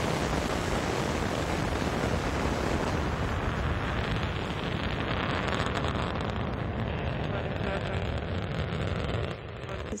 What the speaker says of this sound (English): Booster ignition. And liftoff.